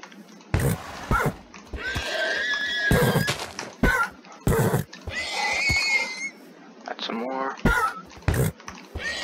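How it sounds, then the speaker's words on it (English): Horses in a video game whinny and neigh several times in loud, close bursts, with brief clip-clop and other game sounds between the calls. "Oh, here's horses. Perfect."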